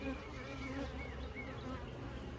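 Honeybees buzzing around an open Layens hive, a dense, steady drone with individual bees whining past nearby, up close and without talk.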